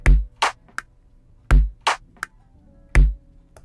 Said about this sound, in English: we have a alternating sound between a kick and a clap